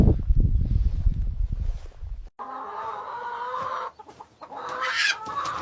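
Chickens on a farm clucking close by, a burst of busy low clucks followed by higher, drawn-out squawks and calls, loud and unaccompanied by talk.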